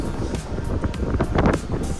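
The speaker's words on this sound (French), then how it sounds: "Allez, on va rentrer parce que là il y a trop de vent, c'est pas possible." Strong gusty wind batters a microphone outdoors in a vegetable garden, producing a loud, continuous rumbling buffet with no voices.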